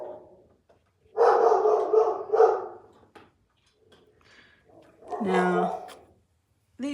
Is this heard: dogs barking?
yes